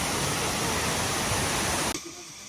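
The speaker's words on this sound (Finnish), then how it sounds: "Ei täällä ole suihkulähde, taitaa olla ihan vesiputous" A waterfall on a cycling trip from Vietnam into Laos gives a loud, steady, broadband rush of falling water that cuts off suddenly near the end.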